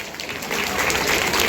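Applause from the crowd at a municipal fair in Bardhaman, many hands clapping in a dense, even patter that swells slightly louder and holds steady to the end.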